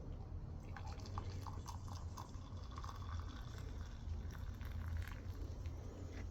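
Liquid pours steadily in a close, continuous trickle and splash outdoors after a test of a Vargo titanium camping stove, with a light dripping texture and no talk.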